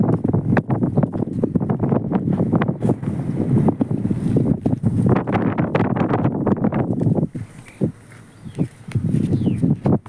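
Strong gusting wind rushes past a fishing boat on the sea off Tainan, loud and buffeting the microphone in repeated bursts, easing briefly before picking up again.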